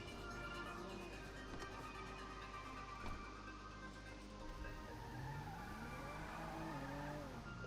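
In Grand Theft Auto V, a car drives with a steady engine hum while its tires squeal and skid at times, all quiet and continuous, with no one talking.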